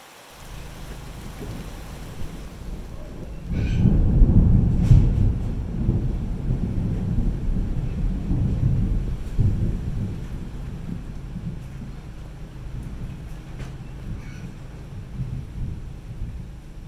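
A rainy-day thunderstorm in Oaxaca, Mexico: a deep, loud roll of thunder swells early and slowly rumbles away over continuous falling rain, with some wind buffeting and no voices.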